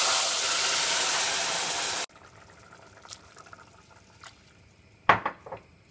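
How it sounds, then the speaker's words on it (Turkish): Hot water is poured into a pot of beet vermicelli, a loud steady rushing pour that stops abruptly, followed by quiet clinks and a few sharp knocks of the pot. "Şimdi sıcak su kullanacağım."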